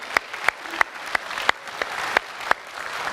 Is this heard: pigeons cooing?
no